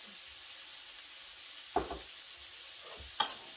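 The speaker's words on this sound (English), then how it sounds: "I'm going to saute these vegetables in the same skillet that I seared the salmon in." Vegetables sautéing in a skillet that was just used to sear salmon, a steady soft sizzle with two brief stirring scrapes, close and moderately quiet, with no voices.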